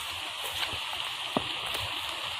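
Rain falling on a farm in the Philippines makes a steady, even hiss that fills the whole stretch, with a few brief drips or taps standing out and no voices.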